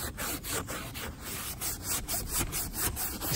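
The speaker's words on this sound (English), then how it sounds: "Get it nice and scuff up the leather." Leather car interior upholstery is scuffed before painting, giving steady, close abrasive rubbing with rhythmic back-and-forth strokes throughout.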